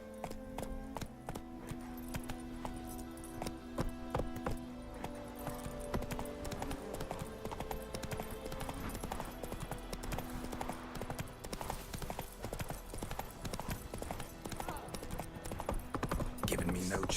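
Clip-clop of Roach the horse galloping in The Witcher 3 plays as a steady, fast rhythm of hoofbeats, moderately loud and continuous, with game music and ambience underneath.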